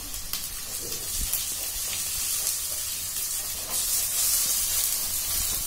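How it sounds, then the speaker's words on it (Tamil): Crushed garlic and green chillies sautéing in oil in a pan for a spicy potato curry, a steady close frying hiss with light crackles and occasional stirring. "நல்லா கோல்டன் கலர்ல வதக்கி விட்டுக்கலாம்"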